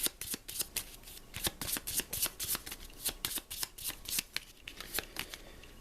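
Playing cards drawn and shuffled during a tabletop deck-building game, Legendary Encounters: Predator, giving a steady run of crisp, close riffling snaps and slides with no talking.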